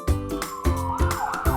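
A loud ambulance siren sound effect cycles through rapid rising and falling wails, with heavy low pulses repeating roughly every third of a second and no voices over it.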